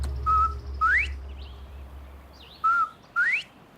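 Two pairs of clear rising whistled mating calls from bobwhite quail in Texas ring out over a low steady hum, each pair a short note followed by an upward-sweeping whistle.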